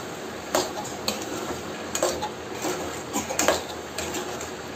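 Dal being stirred with salt in a pan over onions gives soft scraping clinks of a spoon against metal, a few distinct knocks spaced across the moment, with faint background hiss and no talking.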